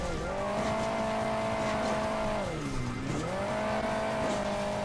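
A car driving in the video game Hill Climb Racing 2: a steady engine drone whose pitch dips once before climbing back up, heard alone.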